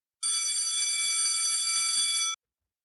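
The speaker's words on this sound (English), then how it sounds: "So that bell that we just heard means we're almost out of time." A school bell rings loudly and continuously in a classroom for about two seconds, a bright metallic clatter that stops abruptly, leaving silence.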